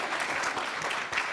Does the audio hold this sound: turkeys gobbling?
no